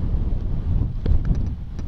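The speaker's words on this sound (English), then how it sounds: "Windy, windy." Gusty wind at Depoe Bay buffets the microphone with low rumbling bursts, close and uneven, with a few faint clicks.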